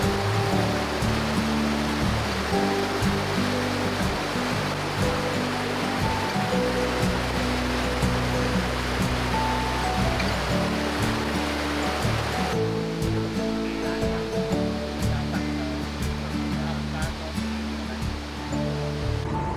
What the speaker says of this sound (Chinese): 云井瀑布。